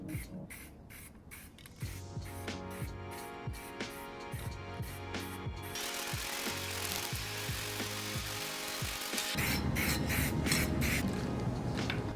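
Spray can applying color shift green copper paint to a 3D printed Green Goblin helmet, with repeated short hissing bursts and clicks, then a longer continuous spray toward the end.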